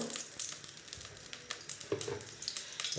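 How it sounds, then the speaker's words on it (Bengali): Duck meat hitting hot oil in a cooking pot, a dense crackling sizzle with bursts of popping, close and fairly loud, continuing without pause. "তেল ঢেলে দিচ্ছি, এখন মাংসটা বসিয়ে দিব।"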